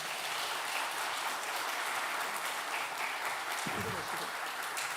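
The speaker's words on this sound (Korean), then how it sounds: "우리 박수 부탁드리겠습니다." Broad, steady applause from a sizeable church congregation during a morning service in Ulsan, South Korea, fills the whole stretch, with a brief low thump near the end.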